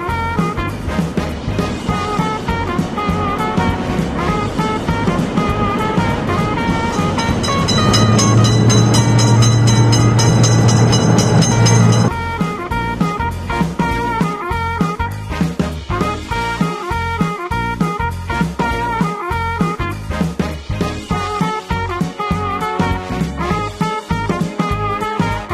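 In a cartoon railroad crossing game for kids, a train passes the crossing with a loud rumbling rush and rhythmic clatter, over game music, with a brief bright ringing burst in the middle.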